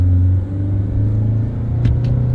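An Isuzu 2.2 engine drones steadily from inside the car on a test drive, a low continuous rumble that swells slightly as it pulls through the gears, with no talk.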